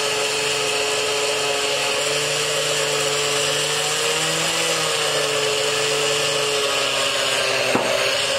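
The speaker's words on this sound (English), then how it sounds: "on a fireman's budget, we have our firehouse blender" A firehouse blender purees a thick Caesar salad dressing, a loud, steady motor whir with a slight dip in pitch partway through, close and continuous without speech.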